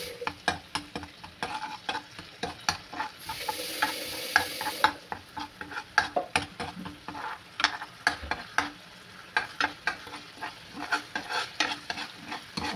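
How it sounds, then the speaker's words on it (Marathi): Onion-tomato gravy for paneer masala sautéing in a pan with green chillies and crushed kasuri methi, a steady sizzle under repeated scraping strokes of a spoon, close up and without talk. "2 हिरव्या मिरच्या या ग्रेव्हीमध्ये टाकायच्या आहेत. चांगली परतून घ्यायची आहे."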